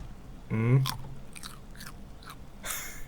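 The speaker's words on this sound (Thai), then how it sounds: "เคี้ยวมาฝรั่งเล่น" Chewing gum in the night-shift store game Midnight Shift: a few short, crisp, crunchy chewing bursts, close and moderately loud, alongside a brief voice.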